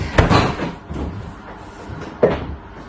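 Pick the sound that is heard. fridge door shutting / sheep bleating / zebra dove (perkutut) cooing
fridge door shutting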